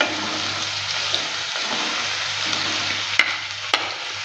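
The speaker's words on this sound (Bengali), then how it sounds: "দেওয়ার পর ভালো করে নেড়ে চেড়ে নিচ্ছি আর কিছুক্ষণ সময় নিয়ে ভেজে নেব" Garlic and onion fry in a pan while being stirred, a soft continuous sizzle with a few faint clicks of the spoon against the pan.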